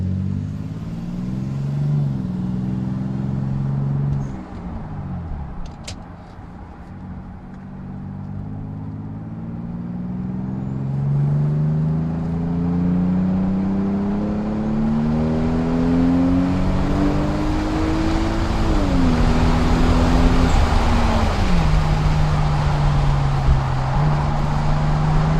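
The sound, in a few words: car driving and accelerating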